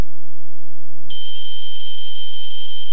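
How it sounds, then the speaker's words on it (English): A battery-operated smoke detector with an escape light sounds its alarm, a single sustained shrill high-pitched tone that starts abruptly about a second in and holds loud and steady to the end. "this is also a battery-operated smoke detector, as it says here, but it also has an added feature."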